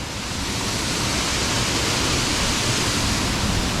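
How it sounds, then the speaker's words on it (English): A waterfall pours with a steady, unbroken rushing roar that stays loud and even throughout, with no voices over it. "So we made it to the waterfall."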